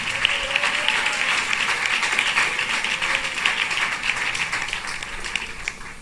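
Church congregation at a Tamil Christian service clapping steadily and briskly, a loud continuous patter of many hands with little talk.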